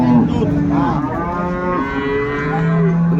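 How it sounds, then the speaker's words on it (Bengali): At a cattle market in Dinajpur, a dairy cow and calf moo loudly and close by, with long drawn-out lowing calls that continue for the whole stretch and no talking over them. "গাভী বাছুর আমরা দেখছিলাম এখানে"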